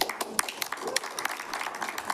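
Brief scattered clapping from an audience at a city council meeting, a few sharp claps over a murmuring room, fairly quiet and short.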